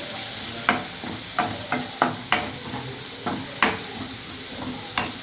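Cashews fry in a pan with a steady low sizzle, punctuated by a series of sharp, close spoon knocks and scrapes against the pan at uneven intervals, with no talking.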